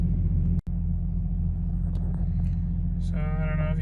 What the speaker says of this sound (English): The idle's still a little funny. It moves, it fluctuates pretty rapidly